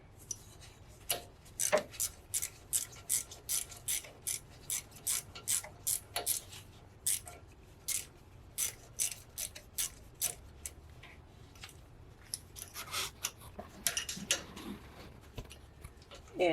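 A hand ratchet loosens a bolt on the front suspension of a Toyota FJ Cruiser, giving a steady run of close, crisp clicking bursts in rhythmic strokes with brief pauses, and a faint voice now and then.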